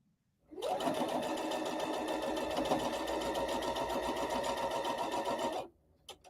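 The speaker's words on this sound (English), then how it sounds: "my machine's quiet because my microphone mutes it down. But it's not a loud machine to begin with." A quiet domestic sewing machine stitches a table runner in one steady, continuous run of about five seconds, humming evenly at close range with no talk, then stops abruptly.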